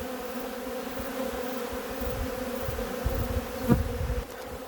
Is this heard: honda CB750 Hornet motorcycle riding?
no